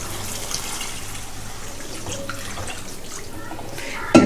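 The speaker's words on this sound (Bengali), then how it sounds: "জল দিয়ে দেবো।" Water poured into a curry while cooking makes a steady close splashing, gushing pour that runs unbroken for a few seconds, ending with a louder clatter.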